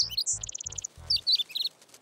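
A cartoon baby bird chirps in quick, high, bright tweets, some in short even runs and others in scattered bursts, mixed with soft low thumps; close and clear with no speech.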